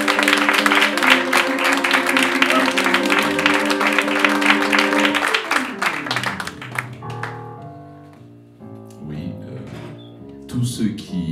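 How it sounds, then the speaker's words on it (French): Audience at an anniversary poetry event breaks into applause over an ongoing musical passage, clapping thick for several seconds before thinning out while the tones continue, with some voices mixed in. "On applaudit, mesdames et messieurs."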